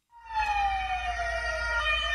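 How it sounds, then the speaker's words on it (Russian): A column of about ten ambulances races through the city of Odessa, carried in a radio news report. A loud, steady, slowly falling siren wail starts abruptly and holds without any speech. "Камера «Одессита» фиксирует колонну из десятка карет скорой помощи, мчащихся по городу."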